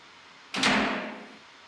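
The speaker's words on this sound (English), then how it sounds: "The other percussion piece I use is the door in the bathroom, and I slam it" A bathroom door in a small tiled room is slammed once as a percussion hit, giving a sharp, loud bang followed by a short ringing decay.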